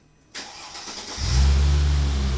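A supercharged Mercedes SLK320 M112 engine cranks briefly, then catches and roars to life, settling into a deep, loud rumbling idle close by.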